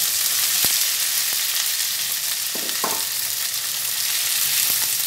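Cut okra pieces for a bhindi dish frying in a pan, a constant bright close sizzle with a few sharp clicks and a brief burst of stirring midway, no voices.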